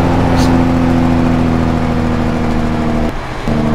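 Mack Anthem truck engine brakes in a driving video game give a steady, loud, low rumbling drone with a tonal hum, briefly dipping and easing off before resuming near the end.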